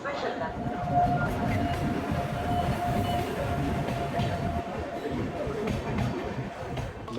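The 13413 Farakka Express, Malda to Varanasi, stands at platform two with a steady rumbling hum and a sustained whining tone. A murmur of voices and station bustle runs underneath throughout.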